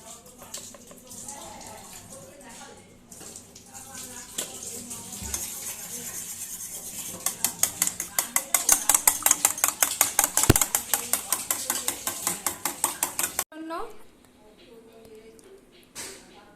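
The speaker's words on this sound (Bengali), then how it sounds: "ডিমটা ভালোভাবে আগে একটু লবণ দিয়ে গুলে নিচ্ছি" Eggs beaten with salt in a bowl for egg rolls, with quiet handling at first and then a fast, even run of close whisking clicks that ends abruptly.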